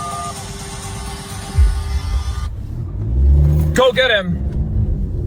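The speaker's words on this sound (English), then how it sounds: "I just got assaulted by a car, a 4Runner, who's now escaping." A Toyota 4Runner pulls away on a street with a rising rev and a rumbling engine roar that builds toward the end, while people shout over it.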